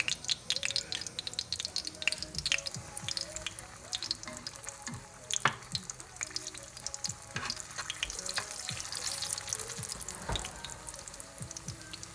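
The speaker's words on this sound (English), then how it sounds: "It's going to crackle pop and it's going to be explosive." Pork loin fries in hot oil with dense, continuous crackling and popping spatters close by, a busy sizzle with sharp pops scattered throughout.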